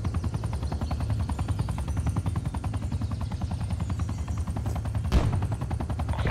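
Rapid automatic gunfire from Call of Duty: Black Ops Cold War multiplayer rattles on steadily and loudly throughout, with a sharp louder crack or impact near the end.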